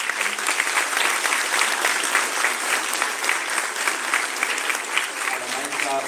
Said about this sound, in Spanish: les pido le brinden un fuerte aplauso